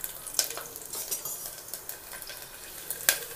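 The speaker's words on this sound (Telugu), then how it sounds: "ఆయిల్ కొంచెం హీట్ ఎక్కనిచ్చిన తర్వాత ఇప్పుడు దీంట్లో పచ్చిమిర్చి వేయండి" Green chillies dropped into hot oil in a pan for mutton curry crackle and sizzle up close, with intermittent sharp clinks and scrapes of a spoon stirring against the metal.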